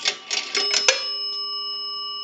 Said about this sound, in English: One nickel. That will ring the bell one time.